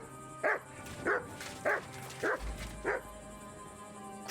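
Five evenly spaced dog barks from a dog in the video game Kingdom Come Deliverance 2, each short and moderately loud, repeating about every half second over a quiet ambient background.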